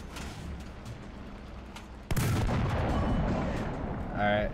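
A heavy bomb blast in War Thunder ground battle erupts suddenly midway, a sharp loud boom followed by a long rumbling tail over quieter battlefield background, with a voice speaking briefly near the end.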